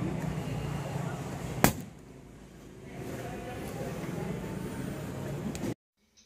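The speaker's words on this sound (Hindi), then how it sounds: "बॉटल आपकी ब्लास्ट हो सकती है" A plastic bottle of fermenting citrus bio enzyme bursts from built-up gas with one sharp, loud pop over a steady background hiss, which continues for a few seconds before cutting off abruptly.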